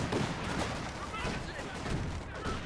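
Dense gunfire from a competitive multiplayer shooter match fought over a capture point, sustained and continuous for the whole stretch, with team voices shouting under the shots.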